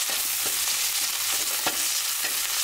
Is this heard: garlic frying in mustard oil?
yes